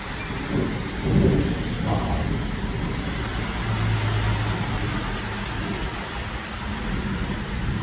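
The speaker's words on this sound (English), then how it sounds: "It's starting to rain again." A thunderstorm with steady heavy rain hissing close by and low rumbles of thunder rolling through, loud and continuous with no voices.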